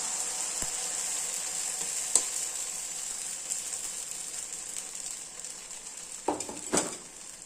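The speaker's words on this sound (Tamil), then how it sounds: "நான் ஒரு ஆப்ப சட்டி வச்சுருக்கேன் சூடாகிடுச்சு இப்போ நம்ம ஒரு கரண்டி நல்ல பெரிய கரண்டி நிறைய மாவு எடுத்து ஊற்றிக்கலாம்" Batter hissing in a hot appam pan, a steady high sizzle held at moderate level throughout, with a few brief clicks and a couple of louder pan knocks near the end, no speech.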